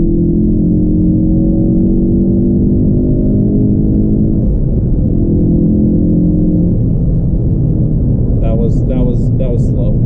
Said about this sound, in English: Pop her into third, up a hill, full throttle.